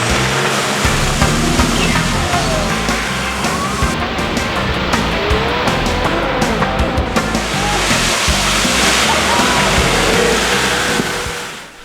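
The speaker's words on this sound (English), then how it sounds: "The water crossing is a favourite with competitors at Cruiserkhana. Who can make the biggest splash" A Toyota 4WD at a Cruiserkhana competition ploughs through a water crossing. Loud, sustained rushing and splashing water surges over a rumbling engine for several seconds, with brief lulls and renewed bursts before it fades at the end.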